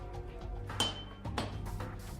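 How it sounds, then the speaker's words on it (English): Steel reheated to about 1300 °C for a katana being hammered, with two sharp metallic strikes and a bright ringing ping after the first, over a low background rumble. "Reheating to 1300 degrees centigrade prepares the steel for hammering, which welds all the pieces into one."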